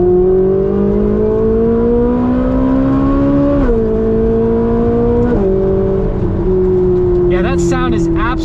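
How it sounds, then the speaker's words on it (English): A Ferrari 458 Spider's V8 engine pulls hard under acceleration, its loud droning note climbing steadily in pitch with two brief dips at gear changes, heard from inside the car. "Yeah, that sound is absolutely amazing with that V8"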